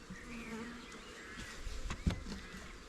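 Honey bees drone in a steady low hum around an open hive topped with a crown board and syrup feeder, with a few louder buzzes passing close and brief soft knocks.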